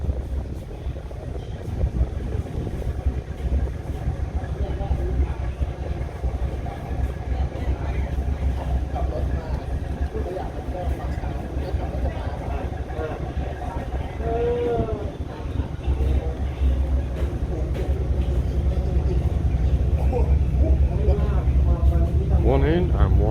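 A ferry comes in from the mainland to a dock on Koh Chang, Thailand, its low engine rumble steady throughout and swelling toward the end while someone talks over it.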